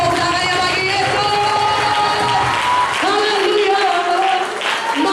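A congregation applauds for Jesus at a KKR revival service in Batam, steady clapping and crowd noise continuing throughout, with a voice calling out over it and music-like tones underneath.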